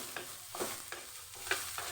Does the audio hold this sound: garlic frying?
yes